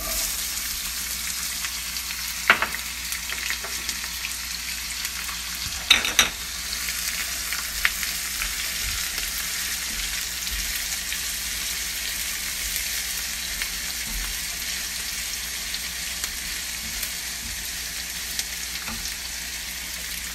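Onions cook in a pan for an Indian-style stew, a steady, even frying sizzle that runs throughout, with a couple of sharp utensil knocks early on and otherwise no other sounds.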